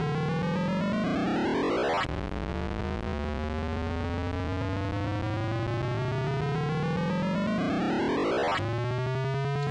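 Rough, buzzy beeper tones from a ZX Spectrum 48k speaker, a loud continuous distorted drone whose harsh pitch sweeps up, glides slowly back down and climbs again before ending in a steadier buzzing tone.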